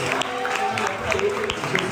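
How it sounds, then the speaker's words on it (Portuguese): Congregation clapping during a church worship service, a moderate wash of hands under a voice and faint musical tones, steady across the short stretch. "Pode aplaudir mais uma vez."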